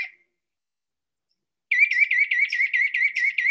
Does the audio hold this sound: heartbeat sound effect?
no